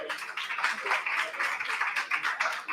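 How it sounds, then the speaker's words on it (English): An audience at a crypto conference in Dubai gives a sponsor speaker a dense round of applause, steady and fairly loud throughout, with no one talking. "Give her a round of applause."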